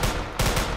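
Rapid bursts of gunfire in the Roblox video game, two loud close volleys in quick succession with no talking.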